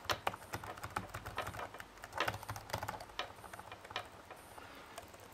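Laptop keyboard keys pressed one after another during a repair check, quiet close-up clicks in an uneven run of taps, some in quick clusters, against a soft background hiss.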